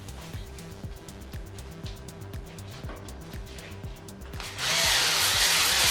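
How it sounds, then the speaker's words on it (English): A ball hone spun by a drill works the cylinder bore of a 50-year-old 360 engine, rattling in a quick regular rhythm under a steady motor whine before a louder, harsher roar takes over near the end. "I like to use my ball hone just to get the right crosshatch pattern that I'm happy with."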